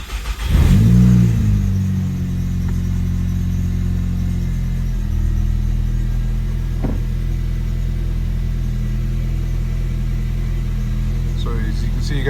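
Nissan Sentra cold start: a starter whirs briefly, then the engine catches with a loud rising rev before settling into a steady, rumbling high idle that holds close and constant, with small clicks near the end.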